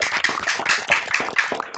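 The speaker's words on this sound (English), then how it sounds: "Can we get another round of applause" Scattered clapping from several people unmuting on a video call during a graduation ceremony, uneven and slightly compressed, with a few louder claps over a steady patter, fading near the end.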